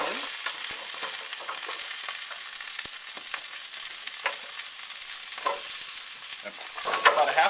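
A whole yellow onion sizzles and sears in a hot pan with carrots, a steady crackling fry punctuated by occasional stirring scrapes, close and moderately quiet with no talking.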